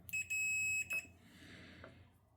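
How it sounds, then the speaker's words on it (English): Three short, piercing electronic beeps in quick succession from a multimeter continuity test on model railway track wiring, then a quiet hum of room noise. "I have my multimeter set to beep if I have a short"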